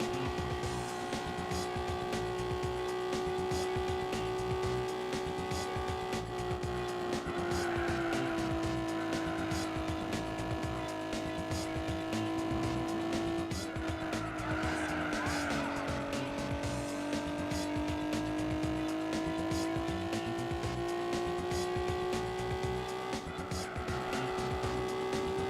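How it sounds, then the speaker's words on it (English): Race car engine in Gran Turismo 4, a loud sustained whine that rises and falls with gear changes and holds for the whole stretch, with tire squeal in places and talk over it. "I find the engine sound to be pretty funny."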